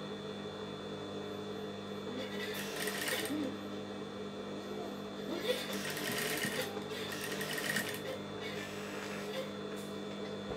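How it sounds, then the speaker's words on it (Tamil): A sewing machine stitches a folded cloth face mask in short bursts of rapid whirring, three separate runs with pauses between, heard under quiet talking and a low steady hum. "எடுத்து பிறகு இதை மடித்து வந்து தைக்கிறோம்"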